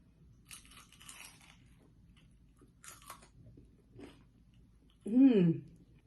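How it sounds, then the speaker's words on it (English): Salbutes are bitten and chewed, making a few faint, close crunches separated by quiet pauses; a brief vocal sound follows at the end. "I wanted you to hear the crunch of this Salbutes."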